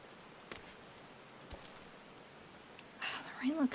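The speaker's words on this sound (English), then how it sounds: "The rain looks so good in this game." Soft, steady hiss of rain falling in a fantasy video game, faint and continuous with a few sharper taps, before a voice starts talking near the end.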